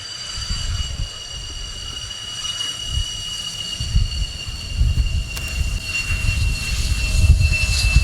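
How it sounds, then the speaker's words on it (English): A Luftwaffe Eurofighter Typhoon jet lands at the RIAT 2019 airshow during the NATO 70th anniversary flypast, giving a steady engine whine with a rumbling low roar that swells gradually, heard from a distance without talk. "it's the Luftwaffe Typhoon that we see as the last of these aircraft to land"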